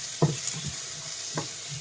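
Onions fry in hot oil with sardines, a soft steady sizzle with two brief stirring clinks, close and with no voices.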